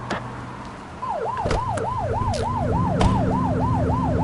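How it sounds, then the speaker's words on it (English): A video game police siren in The Precinct on PS5 wails, cycling up and down rapidly and steadily over a low engine hum, with a few sharp clicks near the start. "Get behind them and flip the siren and make them pull over."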